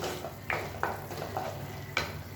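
Masala for a bitter gourd side dish sizzling in a pan while being stirred, with four quick scraping strokes of a spoon over a constant low frying hiss, close and fairly quiet.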